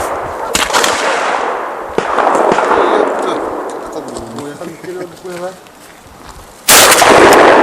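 An inertia-action shotgun with a 760 mm barrel firing test cartridges outdoors: a sharp gunshot early, another sudden loud blast near the end, with a voice talking in between.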